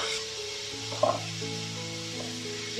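Leeks cook in a pan with a steady close sizzle, one brief clatter of a utensil near the middle, and no talking.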